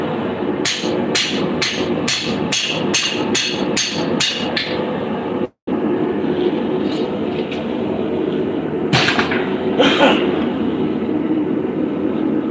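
A hammer striking hot steel while a hog splitter is forged, about ten sharp ringing blows in quick even rhythm, then a pause and a couple of lighter later hits over a low shop rumble, close and loud.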